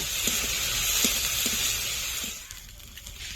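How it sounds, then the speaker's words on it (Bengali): Garlic paste and green chili paste fry in a pan with a steady, bright sizzle and a few soft stirring taps, close by. The hiss fades noticeably toward the end. "রসুন বাটা কাঁচা লঙ্কা বাটা ভালো করে ভেজে নেব"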